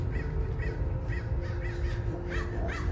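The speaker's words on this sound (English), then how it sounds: "Those crows gave us an offering right there." Several crows caw in a repeated series of harsh calls over a steady low rumble of outdoor background noise, with no talking.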